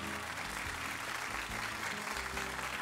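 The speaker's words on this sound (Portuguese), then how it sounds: "Exato, vamos aplaudir, gente." An audience applauds steadily, a dense patter of clapping hands throughout, with a low hum underneath.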